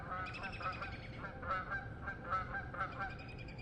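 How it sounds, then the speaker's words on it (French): Canada geese honk repeatedly in a noisy flock outdoors in winter woods after an ice storm, their calls overlapping in an irregular, fairly loud chorus against a steady low rumble. "Et les voilà, les oies canadiennes."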